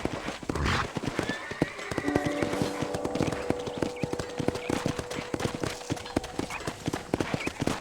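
Horse hooves clip-clopping in the Western video game Red Dead Redemption, a steady rapid trot of sharp close hoof hits on a ranch, with a brief whinny near the start and game music and ambience underneath.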